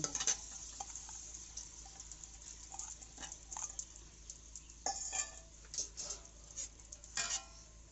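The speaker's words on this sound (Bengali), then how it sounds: "এখানে আমি মুসুর ডালটা দিয়ে দিচ্ছি" Masoor lentils tipped into a pan of fried masala on a clay stove, giving soft scattered stirring scrapes and a few louder clatters against the pan over a faint background sizzle, with no talking.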